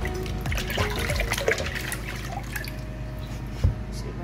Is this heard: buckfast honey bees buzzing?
no